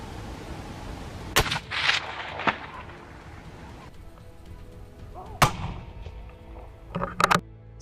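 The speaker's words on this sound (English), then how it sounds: "Suddenly, gunshots rang out" Several sharp gunshots crack out at irregular intervals during a baboon hunt in South Africa, loud and close, with a quick double burst near the end over a quiet outdoor background.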